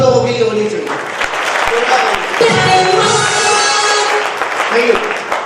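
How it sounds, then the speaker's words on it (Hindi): Applause from a large audience at a training event in Rajasthan, with many hands clapping loudly in an uneven roar while a voice talks over it. "मैं चाहूँगा एक जोरदार तालियां आप सब लोगों के लिए होनी चाहिए।"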